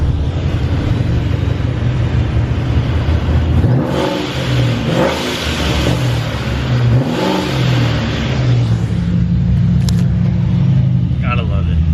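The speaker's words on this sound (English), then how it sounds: "Tell me how you guys like the sound of the big red. I'm gonna do some drive-bys." A supercharged car fitted with a Procharger Big Red blow-off valve drives by outdoors, its engine revving loudly and rising and falling in waves, with a short sharp release whoosh near the end; a voice talks over it.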